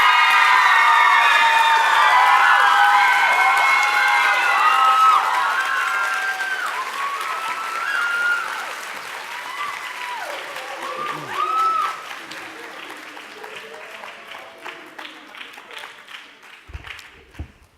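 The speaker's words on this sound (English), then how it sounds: "Let's have another round of applause for all the presenters." A student audience at Akron Early College's Project Soapbox breaks into loud applause with cheering and shouted whoops for the student presenters, the crowd noise strong at first and gradually fading over the long stretch.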